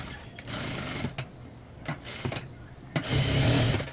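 A sewing machine stitches blouse fabric through canvas lining in three bursts of rapid whirring, close and fairly quiet, with short pauses between runs and the last run longest.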